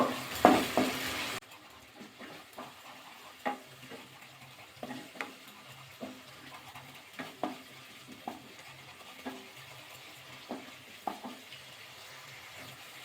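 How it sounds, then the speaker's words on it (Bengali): Cashews and masala stirred in hot oil in a kadai for a Bengali cauliflower dish: a burst of sizzling at the start, then a steady run of soft scraping stir strokes against the pan, close and moderate, with no talking. "কাজু বাদাম দিয়ে কিন্তু অন্যভাবে নাড়াচাড়া করতে হবে তলায় নয় লেগে যাবে"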